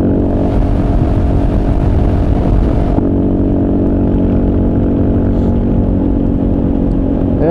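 Kawasaki KLR motorcycle at highway speed around 85 miles an hour, with a loud, steady engine drone and heavy wind rush throughout, the roar easing slightly partway through.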